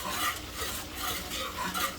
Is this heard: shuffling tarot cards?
no